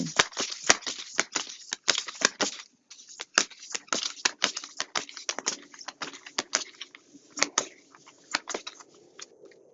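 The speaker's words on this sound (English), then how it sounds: "I'm going to shuffle and pull our cards here" Rapid papery flicks and soft slaps of oracle cards being shuffled, close by, in quick uneven bursts that continue throughout with short gaps.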